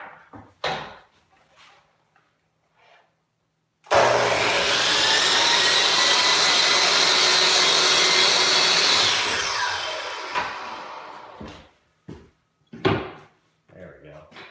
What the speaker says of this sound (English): I'm gonna use the chop saw for that.